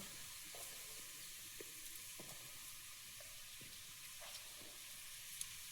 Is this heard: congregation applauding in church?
no